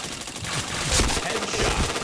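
Rapid continuous automatic gunfire from the shooter video game Point Blank, a dense unbroken burst lasting a couple of seconds with no talk.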